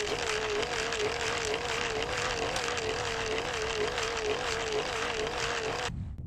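A supercapacitor-powered model airplane on a test flight gives a steady, loud propeller whine with a wavering pitch, then cuts off abruptly near the end.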